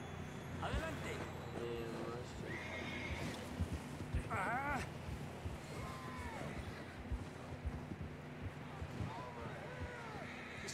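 Horses neigh and whinny repeatedly in the Red Dead Redemption 2 video game, several calls over rumbling movement and scattered hoof thuds, moderately close amid background noise and speech-like voices.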